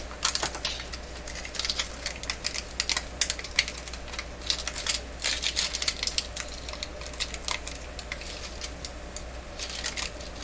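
Crisp, irregular crackling and rustling of old paper being peeled off a capacitor inside a Nordmende Traviata 59 tube radio, close up, with quick scratchy bursts throughout and no talk.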